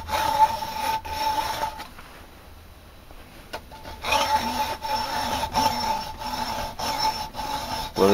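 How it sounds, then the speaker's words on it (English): A hacksaw blade rasps through a ferrocerium rod in repeated strokes, a close, gritty back-and-forth scraping that pauses briefly midway before resuming at a steady rhythm. "Are you sawing through a ferrocerium rod with a hacksaw blade?"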